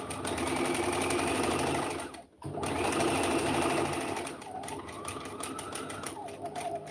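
A sewing machine runs a zigzag stitch over a straight stitch line on a knitted Victorian child's garment, humming and rattling steadily at close range, briefly stopping for a moment, then starting again.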